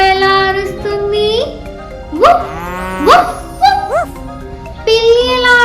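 Children's voices imitate a dog barking, giving a run of short, sharp upward-swooping barks in quick succession, loud and close, between longer drawn-out vocal calls at the start and end.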